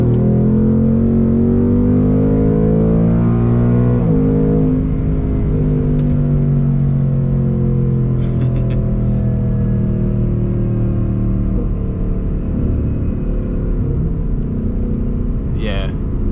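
A 2024 Ford Mustang accelerates in third gear, its engine and exhaust a loud, continuous rising rumble with shifting tones close by. Someone speaks over it.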